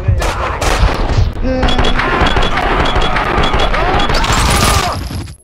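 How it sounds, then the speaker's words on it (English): Gunfire in the video game Max Payne 2, a loud burst of rapid shots and crashing impacts amid game sounds, with a brief exclamation from a player before it cuts off. "Is there someone shooting at me just now?"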